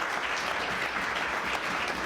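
Audience applause after a book talk on Book TV: dense, sustained clapping from a crowd, even and continuous throughout.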